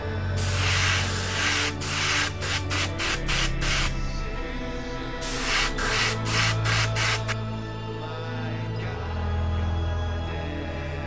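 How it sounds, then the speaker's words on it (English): An airbrush sprays white paint from above onto a miniature model in short hissing bursts, some quick and rapid, others a bit longer, close by with a steady low hum beneath. "I'm using a bit of white in the airbrush and I spray it from above only"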